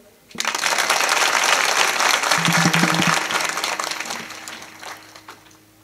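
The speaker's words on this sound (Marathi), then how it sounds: "सर्व मिळून वाजवा बरं एकदा आनंदाने" A kirtan audience claps together at a devotional gathering, a loud dense burst of hand claps that holds steady for several seconds before thinning and fading out.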